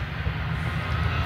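A train rumbles steadily, a dense low drone with broad noise above, loud and continuous with no voices over it.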